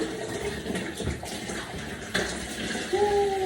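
Water runs from the hand shower of a steam shower in an ensuite, a steady broadband rush that rises slightly in level partway through as the flow increases.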